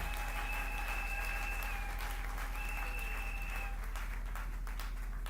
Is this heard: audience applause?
yes